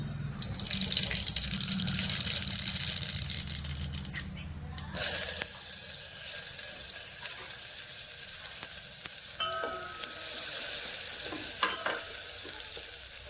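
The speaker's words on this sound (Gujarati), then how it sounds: "તેલ ગરમ થઈ ગયું છે. આ નાખવાનું છે રાઈ." Mustard seeds crackle in hot oil in a pan while Maggi noodles are cooked, a continuous close sizzle with scattered pops and a sharp utensil clatter midway, no talking.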